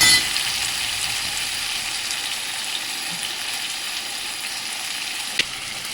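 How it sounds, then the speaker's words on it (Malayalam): Tomatoes frying with onions in a pan for an egg curry, a steady close hiss and sizzle with occasional stirring clicks, no talking. "ഇനി തക്കാളി ഇതിലിടാം."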